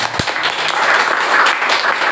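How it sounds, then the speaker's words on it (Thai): An audience at a knowledge-sharing talk applauds a speaker, a steady wash of many hands clapping together with an even level that stays sustained throughout. "ยังไงก็ปรบมือให้พี่ส้อยอีกรอบนึงครับ"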